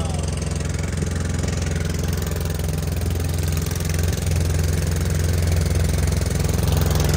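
A boat engine runs steadily on a river at the confluence of the Kaveri and Narmada behind a dam, giving a continuous, fairly loud low droning hum with a constant rhythm throughout.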